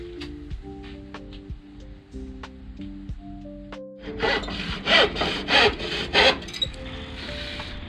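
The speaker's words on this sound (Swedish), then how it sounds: "jag inbillar mig att jag sågar rakare med denna än med sticksågen" Hand saw cutting through wood, quiet at first under a melodic music bed, then a run of loud, close, rhythmic rasping back-and-forth strokes in the second half.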